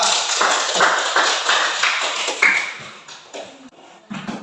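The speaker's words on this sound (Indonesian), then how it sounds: "kita berikan aplaus untuk kelompok" A classroom group applauds a presenting group of students, a dense continuous patter of many hands clapping at once that thins out and fades toward the end.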